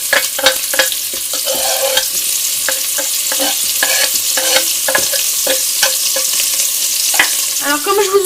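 Minced shallots, onion and garlic fry in olive oil in a pot, giving a loud, close, continuous sizzle broken by frequent sharp clicks and scrapes of stirring. No one speaks.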